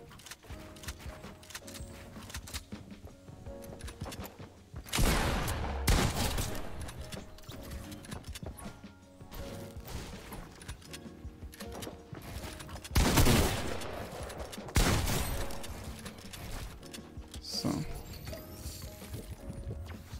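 Bursts of rapid gunfire in Fortnite crackle over a dense background of game noise, with louder volleys coming every few seconds.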